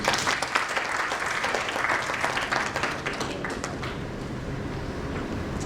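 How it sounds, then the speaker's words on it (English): Audience at a supply chain conference keynote applauding, a dense burst of clapping from the hall that holds steady, then thins and fades toward the end. "Let's give a round of applause"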